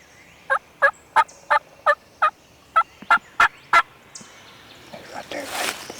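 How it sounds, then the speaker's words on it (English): A wild turkey in the Alabama woods gobbles in a loud, rapid run of about ten evenly spaced gobbles, close and clear. Afterward come faint rustling and a soft breathy background. "these other turkeys that are back here gobbling behind us"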